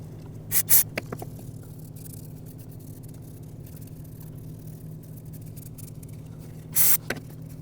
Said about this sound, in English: brake parts cleaner